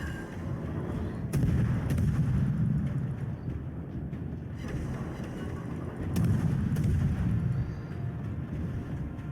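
Warship guns firing in World of Warships, deep booming salvos that rumble heavily around the second and sixth seconds over a continuous low roar, with sharp cracks at the onsets.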